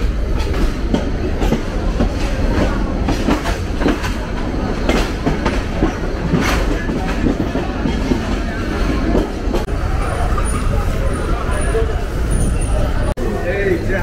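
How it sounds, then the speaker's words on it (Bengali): A Bangladeshi passenger train runs on its rails near Dhaka Airport station, a loud, rumbling roar with rhythmic clickety-clack and sharp wheel knocks, while people talk faintly in the background. "নির্ধারিত সময় থেকে 5 মিনিট বিলম্বে আমাদের ট্রেন পৌঁছালো ঢাকা বিমানবন্দর রেলওয়ে স্টেশন"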